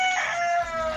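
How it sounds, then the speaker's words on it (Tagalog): A rooster crows at night, one drawn-out, clear crow heard fairly close and alone, with no talking. "Siguro panabong yun kasi tumitalaok ng gabi"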